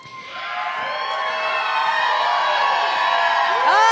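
A live theater audience at Thalia Hall cheers, whoops and claps in a sustained, loud wash that builds over four seconds, with scattered shouts rising near the end.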